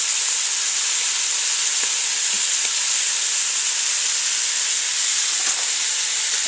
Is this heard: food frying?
yes